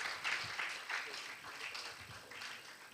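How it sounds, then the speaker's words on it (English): An audience at a nursing college event gives faint, distant applause, a patter of hand claps, with voices murmuring among the clapping. "Please have a applause for Madam Libera."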